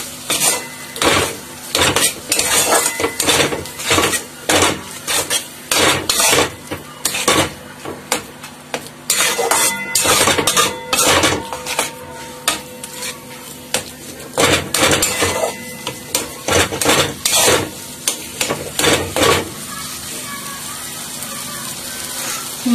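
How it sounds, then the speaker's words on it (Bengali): Potatoes being worked with spices in a pan for a vegetarian kabuli chickpea ghugni, with dense, repeated scraping and clattering of a spoon against the metal pan over a low frying hiss, close and loud, no voices. "আলুটাকে এই মশলার সঙ্গে ভালোভাবে কষাতে হবে"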